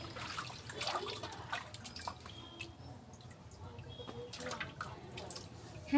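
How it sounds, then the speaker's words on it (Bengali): Water runs and drips as meat is rinsed by hand, a soft, steady trickle with scattered splashes, close and fairly quiet, and a little background noise now and then. "তাই আমি তাড়াহুড়ো করে এখানে মাংস ধুতে বসেছি ঠিকই"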